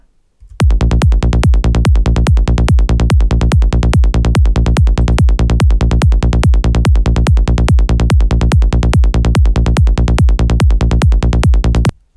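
Psy EDM kick and bass loop: a loud, steady four-on-the-floor kick with a rolling bassline between hits, repeating evenly for about eleven seconds with no voices.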